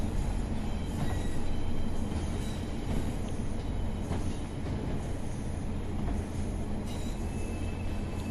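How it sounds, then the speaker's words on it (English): A British Rail Class 47 locomotive hauling MK1 or MK2 carriages passes close by, heard from a moving Pacer train as a loud steady rumble with wheel rattle and occasional squeal. "towards our left is a Class 47 going by with the small BR blue logo for British Rail, carrying MK1 or maybe even MK2 carriages"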